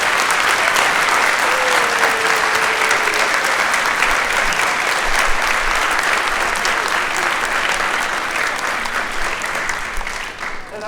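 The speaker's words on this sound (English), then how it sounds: "let's give them a really big round of applause" Audience at a school winter concert gives loud, sustained applause, a dense wash of clapping from many hands that carries on evenly and tapers slightly toward the end.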